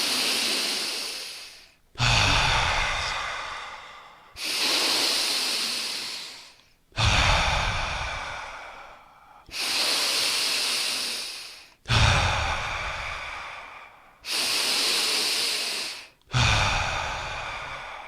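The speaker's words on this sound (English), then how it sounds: "see if you can suck in a little more air, fill that balloon a little bit more, and then let it go with an audible exhale" Eight slow, deep breathing cycles during a guided exercise, each a long audible exhale that fades out before a short silent pause and the next breath, close and even in rhythm.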